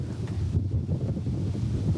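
Steady wind gusts across a golf course, buffeting the microphone with a continuous low rumble and no talk.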